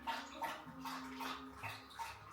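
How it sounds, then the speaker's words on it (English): Dogs drinking water make faint, quick, rhythmic lapping splashes, roughly two or three per second, in a quiet room. "Every time I'm talking, the dogs gotta drink water."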